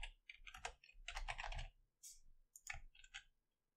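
Close, crisp clicking of fingers typing on a computer keyboard while coding, in a few quick bursts of keystrokes separated by short pauses, with no talking.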